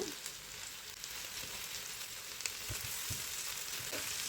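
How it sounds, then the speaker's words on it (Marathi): Malvani-style chicken fries in a pan with a continuous soft sizzle and occasional small pops and stirring knocks, fairly faint and steady with no voices. "आता आपण थोडंसं साईडने देखील ह्याला फ्राय करून घेऊया"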